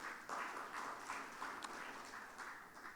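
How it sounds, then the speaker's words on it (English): A conference audience applauds a speaker at a tax event in Dubai, giving a faint, steady wash of clapping heard from a distance with no voices over it. "Big round of applause to him as well."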